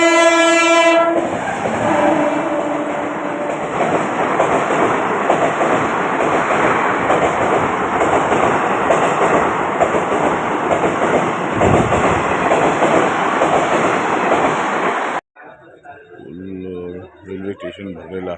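A MEMU commuter train at a crowded railway platform, with loud continuous rail rumble and clatter of the passing train throughout, a horn sounding near the start, and a quieter, busier platform ambience at the end.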